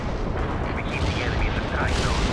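Battlefield gunfire in the real-time strategy game World in Conflict: Soviet Assault, a continuous rumbling mix of shots and distant artillery-like booms with someone talking over it.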